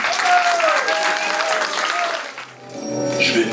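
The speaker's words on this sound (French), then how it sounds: "On peut l'applaudir bien fort." A festival crowd at the Donjon de Naheulbeuk gathering gives loud, cheering applause with whistles and shouts mixed in, which drops away briefly before another burst of clapping and voices returns.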